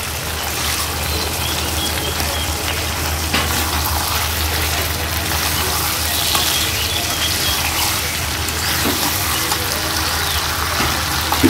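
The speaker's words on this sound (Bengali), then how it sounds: "এই যে মাংস দেখো কষানো হচ্ছে" Meat braising and stir-frying in a pan gives off a loud, continuous hiss and sizzle, steady and close throughout with no pauses.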